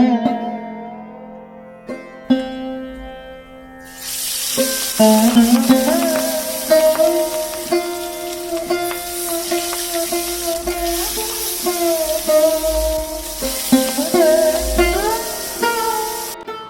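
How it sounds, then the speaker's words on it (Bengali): Fish fries in a pan on the stove, with an ongoing sizzle and occasional stirring clatter, heard close under steady tonal background music. "ওপরে মাছ ভাজা বসিয়ে দিয়ে"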